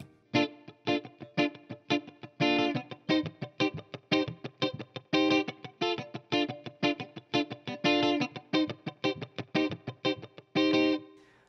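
Electric guitar runs through effects and distortion, repeating a funky two-chord groove for a soul-jazz tune in tight, evenly spaced rhythmic stabs. The chords are close and steady throughout, with no voices.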